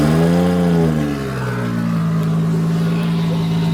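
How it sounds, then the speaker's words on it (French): A Nissan S14 drift car with a freshly welded exhaust idles loud and close, its engine swelling briefly in a rev, then settling into a steady, droning warm-up rumble. "ils ont mis la voiture en chauffe"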